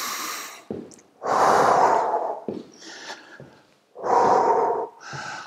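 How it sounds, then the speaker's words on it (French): Deep breaths during a home gym workout: a long, loud inhale followed by a forceful exhale, repeated twice at close range with short gaps between, and no talking. "Inspirez à fond, soufflez à fond."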